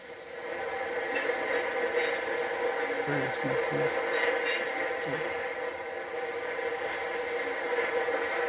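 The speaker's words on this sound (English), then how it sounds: "another eastbound freight emerges on the adjacent track" A steady, heavy rumble of a passing Pennsylvania Railroad freight train near Bennington Curve, with clanking and squealing wheels on the rails, loud and continuous throughout.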